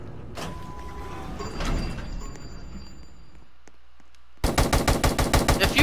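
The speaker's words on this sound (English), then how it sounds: "That's a gun." Rapid gunfire from a gun in the Roblox game, a loud regular burst of shots in the last second or so, after quieter game clatter and a few thuds.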